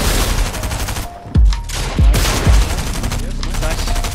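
Fortnite arena match gunfire: several sharp, heavy shots in a quick uneven burst with rapid firing between them, loud and close over ongoing game noise.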